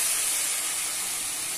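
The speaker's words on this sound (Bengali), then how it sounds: "এবার এতে আমি একটু সামান্য জল দিয়ে দিলাম" Water poured into hot frying mango chutney in a pan sets off a loud, steady steam hiss that fills the whole moment without pause, with no talking over it.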